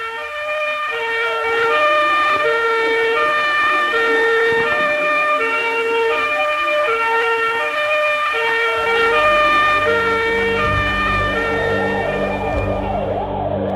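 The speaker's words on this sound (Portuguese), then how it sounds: "A chegada do carro dos bombeiros" A wailing fire engine siren sounds loud and steady, its tones repeating in a rising-falling pattern, then shifting into a faster warble near the end over engine rumble, arriving at a 1976 fire at TV Globo.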